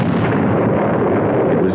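Explosive eruption of Vesuvius near Naples, rendered as a loud, continuous deep roar of blast and rumble that holds steady with no gaps.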